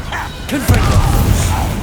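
A Confringo fire spell blast in Hogwarts Legacy, a sudden loud whooshing burst followed by a rumbling impact and crackle, with game effects and a brief spoken cast layered over it.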